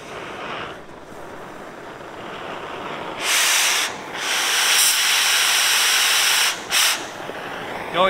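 A cutting torch roars against metal in a shop with plywood laid over a concrete floor, loud hissing bursts rising and falling with brief pauses between them.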